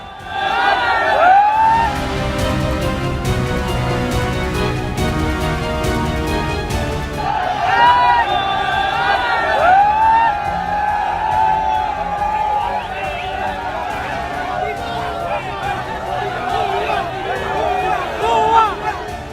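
A frenzied crowd looting Sheikh Hasina's residence, with loud, dense shouting and cheering voices throughout, whistles and cries rising above the roar, and a steady din from a large mass of people close by.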